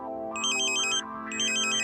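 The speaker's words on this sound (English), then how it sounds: "You hear the ambulance tone again." A Tooway satellite modem gives an ambulance-like warbling alert tone while its dish is being pointed: two bursts of bright pulsed beeping over a steady hum, close and clear, with no talking.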